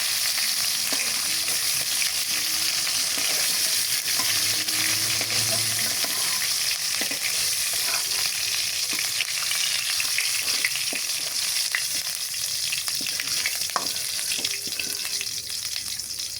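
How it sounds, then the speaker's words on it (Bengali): Chicken wings frying steadily in hot oil, a dense continuous sizzle with occasional faint clicks of stirring, close and alone without any voices. "এই যে দেখেন আমাদের সবটি মাংস ভাজা হয়ে গেছে।"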